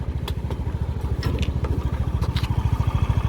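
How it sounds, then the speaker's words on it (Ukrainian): A Honda Dio 110 JF31 fuel-injected scooter engine runs steadily nearby, its rapid, even low putter continuing throughout with a few faint clicks over the top. "Послухайте, як працює мотор."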